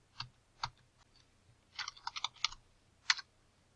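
A few crisp computer keyboard key presses while editing a spreadsheet, isolated clicks followed by a short cluster of taps and a final sharp press, close and quiet in a still room.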